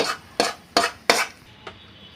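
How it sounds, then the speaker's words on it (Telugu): A spoon taps and scrapes against a small metal tempering pan four times in quick succession, then once more faintly, as the hot seasoning is tipped into a ground urad dal chutney; no one speaks. "ఈ పోపు ఎత్తి పచ్చడి మనం మిక్సీ పట్టుకున్నాం కదా ఆ పచ్చట్లో పోసేసుకోవాలా"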